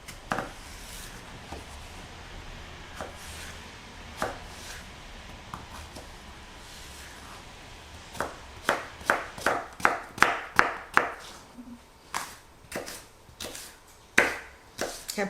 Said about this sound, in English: Let's cut the zucchini.